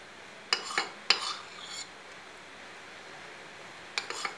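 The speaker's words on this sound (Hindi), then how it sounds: "जब तक 2-3 बॉयल नहीं आ जाएंगे तब तक हम कस्टर्ड में चम्मच जो है वो" A spoon stirs custard in a metal pot, giving a few clear clinks and scrapes close by, then a quiet pause before a final pair of quick taps.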